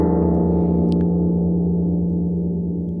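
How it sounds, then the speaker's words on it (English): A sampled harp hit rings out as a sustained, steady chord that slowly decays across the clip, loud and alone with no voices. "there was a hit on the harp here, and this hit sound, again, is sampled by the lovely people at Chocolate Audio."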